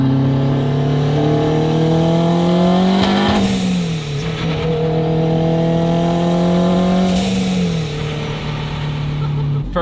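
Turbocharged all-wheel-drive Acura RSX with a Honda K20 engine driving hard, loud and close, revving up through gears with rising harmonic engine tones, a brief shift dip near four seconds and another climb, turbo whoosh over the top.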